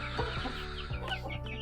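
Chickens cluck in a coop where young chicks and older birds are kept, with overlapping bird calls and repeated short bursts across a busy, fairly close background.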